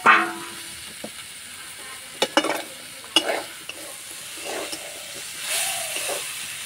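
Fried potatoes and pointed gourd are stirred together in a sizzling pan, with sharp spoon scrapes and clacks at irregular intervals over a soft hiss of frying.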